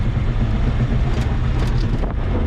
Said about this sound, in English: Now we're gonna give her some gas.